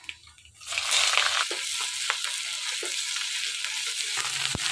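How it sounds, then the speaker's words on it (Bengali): Onion, dried chili and black cumin seeds hit hot oil in a heated wok over a village cooking fire, bursting into a loud, steady sizzle after a quiet start, with occasional sharp pops and stirring scrapes. "এই দেখেন পেঁয়াজ ভাজা লাল লাল ভাব চলে আসছে"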